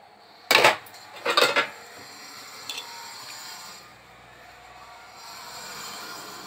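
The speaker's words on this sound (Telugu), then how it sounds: "కట్ చేసి పెట్టుకున్న ములక్కాయ, పచ్చిమిర్చి, టమాటా, ఆనియన్ మొత్తం వేసేసుకుందాం" Chopped drumstick, green chilli, tomato and onion tipped into a pot for sambar, landing as two quick clattering bursts in close succession, then a faint knock and a soft sizzling hiss.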